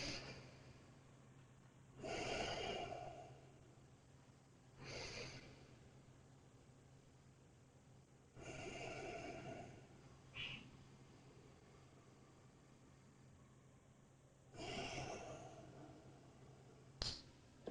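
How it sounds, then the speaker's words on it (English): Slow, deep breaths while holding a yoga reverse plank: about four soft, breathy swells spaced several seconds apart, faint and close, over a quiet room with no talking. "And a few deep breaths."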